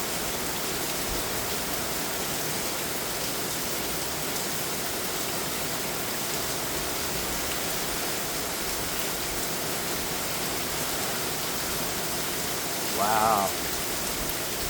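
Heavy rain pours down in Chandler, Arizona, a dense, steady hiss of downpour hammering surfaces for the whole stretch, with a brief exclaimed voice near the end.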